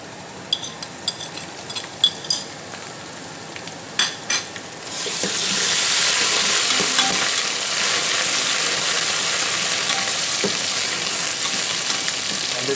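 Onions frying with ginger garlic paste for a chicken and squash curry: a few sharp clinks of a spoon on the pan first, then a loud, steady sizzle that swells as the paste goes in, with occasional stirring scrapes and no voices.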